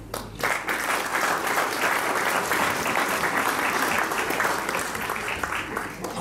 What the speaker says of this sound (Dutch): En ik denk dat dat op zijn minst een heel groot applaus waard is.